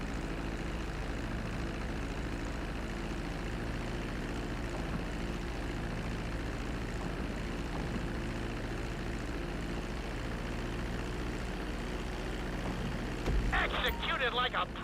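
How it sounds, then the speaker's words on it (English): Airplane engine drone in Grand Theft Auto V during a runway landing, a steady loud engine roar holding throughout with a brief louder burst near the end. "Start reducing the plane's altitude gradually so you're just above the runway as you approach."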